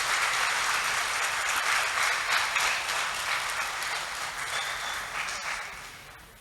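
Audience applause at a forestry workshop, dense sustained clapping from a seated crowd that holds steady then tapers off toward the end, with no talk over it.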